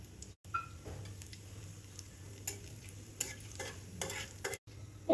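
Bay leaves and whole cumin frying in hot oil while a chicken-skin curry starts, a soft steady sizzle with a few scattered stirring clinks, faint and close, with no talk.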